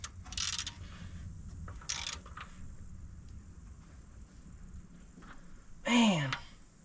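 A socket wrench ratchet working a spinning bolt during the teardown of a 1962 Mercury Meteor: steady clicking mechanical ratcheting at close range, with brief voices and a sigh over it.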